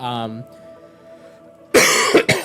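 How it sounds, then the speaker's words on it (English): Someone with a lingering cold has a harsh coughing fit, loud and close: after a brief bit of speech and a quiet pause come two or three rough, throaty coughs in quick succession. "I might have a bit of a coughing fit in the middle of this."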